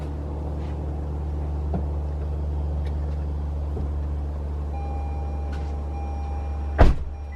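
A Toyota RAV4 Prime is switched on: a steady low electrical hum, then a sustained tone that starts partway through and holds, followed by a sharp, loud click or thump near the end.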